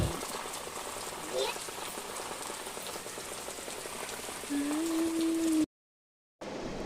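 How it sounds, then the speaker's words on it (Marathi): Steady rain falls outdoors in a soft, continuous patter across the whole stretch, with a faint tonal sound near the end and a short silent gap before it resumes. "पाऊस आला पाऊस आला"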